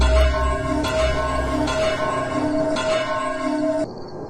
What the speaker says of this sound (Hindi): 9 बजने से पहले ही घंटा बज गया।